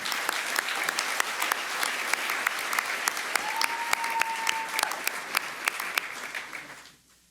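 Sparse applause at an awards and recognition dinner honoring the judging panel, with distinct individual claps standing out over a soft bed of clapping, fairly distant and quiet, fading away at the end.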